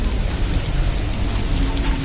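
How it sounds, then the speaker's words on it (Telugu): Heavy rain falls in Goa during a boat cruise as a dense, steady hiss of drops, close and loud, unbroken throughout. "చాలా బాగా వర్షం పడుతుంది"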